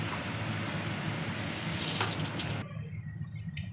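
Water poured over puffed rice for soaking makes a soft, steady gushing splash for a few seconds, then fades to a quieter trickle.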